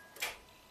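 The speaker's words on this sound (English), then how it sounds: "Hear a solenoid click, but the motor is not spinning." One faint, sharp click from the starter solenoid of an Acura RDX whose motor fails to spin, heard alone in a quiet moment.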